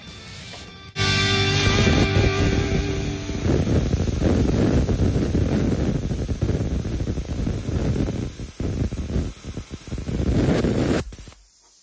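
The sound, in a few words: plasma cutter cutting 3/16 inch steel at 35 amps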